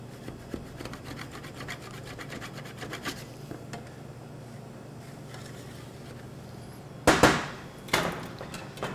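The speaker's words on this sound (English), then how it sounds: "I'm going to simply scrape and tap out and try to make sure I don't have any chocolate bits" Hard scraping and sharp taps against a chocolate mold while clearing out leftover chocolate bits, with faint rubbing through most of the stretch and then two loud, close knocks near the end.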